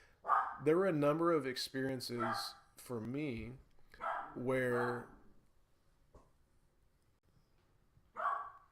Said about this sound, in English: sorry, that's my dog there.